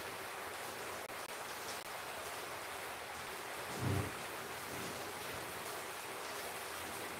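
Light rain falls steadily in a soft, even hiss with no voices, interrupted by one brief low thump near the middle.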